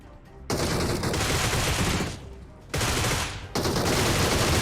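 Rapid automatic gunfire in a PUBG-style shooter game, loud dense bursts of shots near the listener, cutting off briefly twice before resuming in sustained volleys, with no talk over it.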